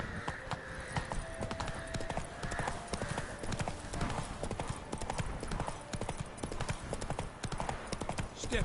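Roach the horse trots through The Witcher 3, its hooves beating a steady, continuous clip-clop that stays close and prominent over faint in-game ambience.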